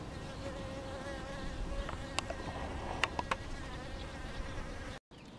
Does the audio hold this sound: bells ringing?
no